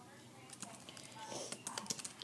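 Soft, close computer keyboard typing, a quiet run of irregular clicks and taps that grows busier toward the end, with a faint murmur of voice underneath.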